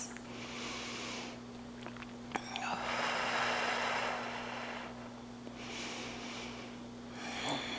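Slow, deep belly breathing during a grounding yoga session, with several long airy inhales and exhales close by over a quiet, steady hum.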